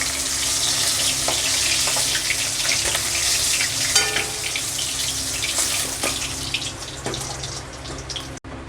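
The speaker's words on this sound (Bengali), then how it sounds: "বাকি মাছগুলো আমি এইভাবে ভেজে নেব।" Rohu fish pieces frying in hot oil, a steady dense sizzle with crackles that runs close and loud through the whole clip, with no one talking.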